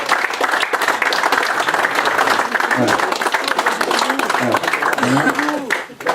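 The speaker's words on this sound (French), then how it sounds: "On peut les applaudir si vous voulez bien vous donner un nom." An audience at a fishing competition prize-giving claps for the winners, sustained loud applause with a voice speaking briefly over it near the end.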